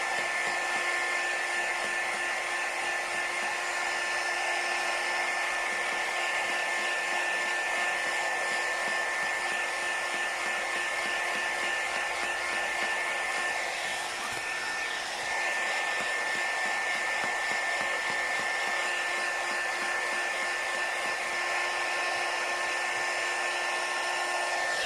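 Heat tool or hair dryer blowing continuously to dry craft paste on a small box frame, a steady loud whirring drone with a fixed high whine, unbroken for the whole stretch and with no talk.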